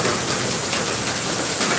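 Steady rain falls on a livestock farm, a dense, even hiss that holds at the same level throughout with no voices over it.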